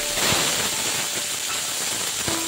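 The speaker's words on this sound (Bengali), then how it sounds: "এগুলোকে দিয়ে আমি খুব ভালো করে একটু কষিয়ে নেব।" Bay leaves, a dried chili, and garlic and ginger paste sizzle in hot oil, giving a steady, close, hissing fry with occasional faint clinks.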